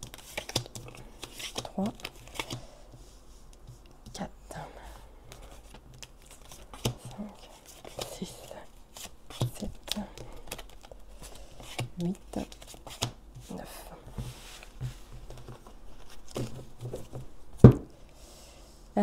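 Tarot cards being cut and shuffled by hand, a run of soft papery riffles, flicks and taps close by, with someone speaking briefly over them.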